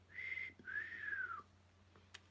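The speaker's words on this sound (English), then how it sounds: "I'll give you your wee whistle first." A person whistles two clear, sustained tones in quick succession, the second longer and gently falling in pitch, followed by a short sharp chirp near the end, with a faint hum underneath.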